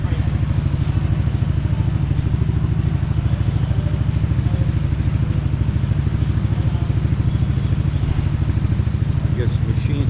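A motorcycle's front brake is tested on an inspection machine at a Philippine vehicle testing station, giving a steady, loud mechanical drone with rapid rhythmic pulsing and clatter throughout, with faint voices nearby.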